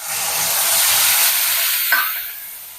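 Freshly ground paste of ginger, garlic, onion, green chili and cumin fries in hot oil with a loud, close sizzle, a brief stir-scrape near the end.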